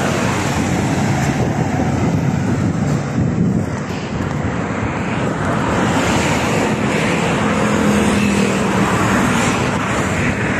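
Steady broadband roar of road traffic, loud and continuous with a rising swell near the end, suggesting vehicles passing close by on a road during a ride.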